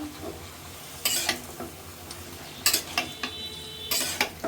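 Vegetable curry with ghee, salt and turmeric is stirred in a pan. A utensil scrapes and clinks against metal in bursts over a soft, steady sizzle, and there is no talking.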